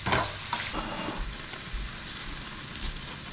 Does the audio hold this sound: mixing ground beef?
yes